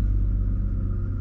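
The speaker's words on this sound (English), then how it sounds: "I can just hear like lorries and cranes, and there's obviously some sort of roadworks or something" Lorries and cranes at nearby roadworks send up a steady, heavy low rumble of engines that holds constant throughout, with no voices.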